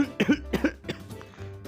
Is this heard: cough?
yes